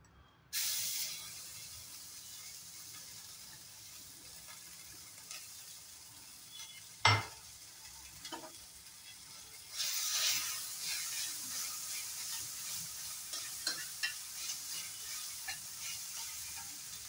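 Fenugreek and grated ginger go into a dry, oil-free pan for a vegetable soup. A soft hiss and sizzle follow, with a sharp knock partway through and a louder burst of sizzling and scraping near the end.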